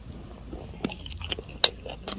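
Hard, old, under-warmed reheated rice being chewed up close: a few soft chews, then a sharp crunchy bite and more crunching, quiet and intimate with no talking.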